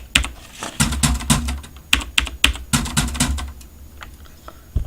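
Keys striking on a typewriter, loud sharp clacks in uneven bursts with short pauses, close and isolated with no talking.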